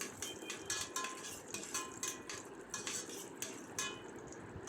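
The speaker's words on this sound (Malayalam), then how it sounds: "എന്നിട്ട് നമുക്ക് ആവശ്യത്തിനുള്ള അണ്ടിപ്പരിപ്പും മുന്തിരിയും ഒക്കെ ഒന്ന് ഫ്രൈ ചെയ്തെടുക്കുക കേട്ടോ." Cashews and raisins fry in ghee in a pan, a soft sizzle under repeated clinks and scrapes of a spoon stirring against the metal, fairly quiet and steady with no voices.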